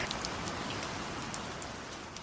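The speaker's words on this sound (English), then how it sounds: "It was actually pouring rain on our yacht day" Pouring rain falls steadily on a yacht in Sydney, a dense continuous hiss with scattered sharper drops close by, loud and unbroken throughout with no voices.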